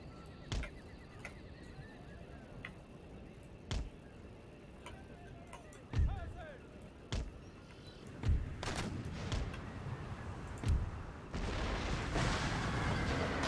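Cannon artillery fire in the Empire Total War strategy game, with repeated sharp booms at irregular intervals over a busy battlefield din that thickens toward the end.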